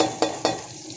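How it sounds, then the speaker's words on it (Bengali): Whole spices and a pinch of asafoetida sizzle in hot oil, crackling loudly and close, with two sharp stirring scrapes through the hiss. "ফোড়নগুলোকে খুব সুন্দরভাবে আমি নাড়াচাড়া করে ভেজে নেব।"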